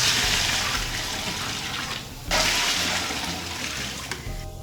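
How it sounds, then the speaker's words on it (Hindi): Water pours steadily into a large pot of chana pulao holding soaked chickpeas, a continuous splashing gush close by that breaks briefly partway through and then resumes. "अब इसमें शामिल करेंगे पानी।"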